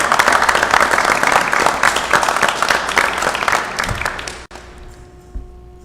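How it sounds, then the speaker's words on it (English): Applause from a forum audience for the supporters of Republican county commissioner candidates, a dense, steady clapping that fills the room for about four seconds, then cuts off abruptly and leaves faint room tone. "candidates, a round of applause for the folks who are supporting you."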